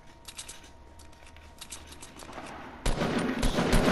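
Video game gunfire from a shooter, a fusillade of quick shots building from faint scattered pops to a loud, dense burst of rapid fire near the end.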